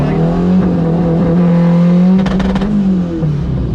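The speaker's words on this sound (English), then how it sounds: "I rev it up, watch it, and then I hold that" An 800hp all-wheel-drive Honda Civic engine held at high revs with anti-lag, a loud sustained droning roar close up, crackling pops partway through before the pitch eases off.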